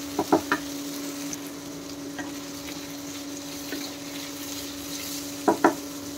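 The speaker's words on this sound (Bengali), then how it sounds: "আমি একসাথে ভেজে নিচ্ছি। দেখেন নেড়ে চেড়ে কিন্তু ভালো করে ভেজে নিতে হবে।" A steady sizzle of food frying in a pan, broken by a few sharp clicks and scrapes of a spoon stirring.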